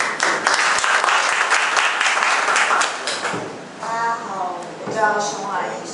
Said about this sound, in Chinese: 我们掌声欢迎贝尔